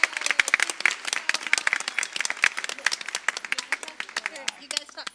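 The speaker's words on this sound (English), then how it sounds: "Navarro, come up and let us give you a big round of applause" An audience at a school board meeting applauds Navarro Elementary students with brisk, dense clapping for several seconds, close and lively, with voices mixed in.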